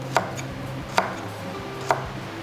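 A knife slices shallots on a cutting board, landing three crisp, evenly spaced taps against a quiet kitchen background.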